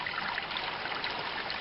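Fountain water trickling in Heroes of Might & Magic 1, a steady soft bubbling stream that runs alone and evenly at low volume.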